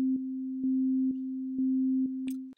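An Ableton Operator synth tone with a square-wave LFO holds a steady pure pitch that is rhythmically chopped at an even on-off pulse, about twice per second. A brief brighter click comes near the end, and nobody talks.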